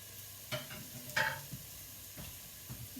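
Onions going into a hot pan for sweet and sour tofu, giving a faint sizzle with a few soft clicks and stirring scrapes at irregular moments, with no talk.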